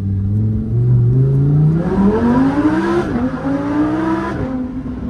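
A Lamborghini Huracan Evo with an Akrapovic exhaust revs hard and deep as it accelerates, the pitch climbing through gear changes, loud and close with a throaty exhaust roar.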